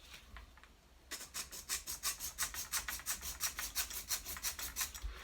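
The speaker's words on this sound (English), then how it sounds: "I'll just get my little saw and I'll just trim off" A small hand saw trims a piece on a steampunk cupcake craft project, a close, quiet rasping in a steady rhythm of quick back-and-forth strokes after a brief pause.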